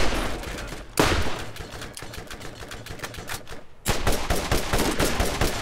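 Rapid gunfire in the shooter Borderlands, with dense bursts of automatic shots rattling continuously, a sharp cut about a second in and another loud burst near the end, close and loud with no talking.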